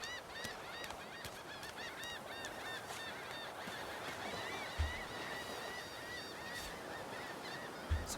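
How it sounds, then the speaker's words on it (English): Seagulls squawk in the video game Divinity: Original Sin II, a steady run of repeated harsh honking cries over a dense ambient backdrop, with a couple of low thumps partway through. "Shoo, seagulls."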